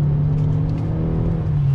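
A 2020 Honda Civic Coupe EX accelerates out of a turn, a loud, steady engine drone heard from inside the cabin, building smoothly without pause.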